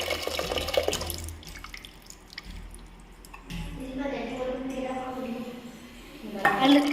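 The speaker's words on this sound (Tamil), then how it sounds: "இப்போ பனஞ்சு வச்ச புளி நம்ம ஊற்றிக்கலாம்." Soaked tamarind water poured into a cooking pot for paruppu kuzhambu, a liquid splash and trickle with light drips, close and moderately loud, with some talk around it.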